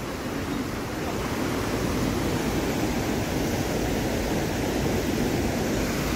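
A small waterfall cascades along the Vièze river, a steady, loud rush of broadband water noise that holds constant throughout with no voices.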